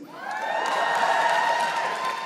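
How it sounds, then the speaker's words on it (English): A comedy show audience cheers and whoops in a steady burst of crowd noise mixed with applause, fairly loud, lasting a couple of seconds with no distinct speech. "Thank you for cheering."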